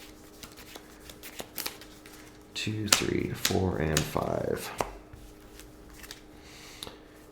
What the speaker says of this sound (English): Let's do the over-under shuffle.